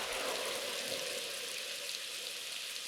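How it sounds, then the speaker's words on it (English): Thunderstorm rain in a scene from the TV show Lost, a steady, dense hiss of downpour that holds at an even level for the whole few seconds, with no voices. "Right into a thunderstorm."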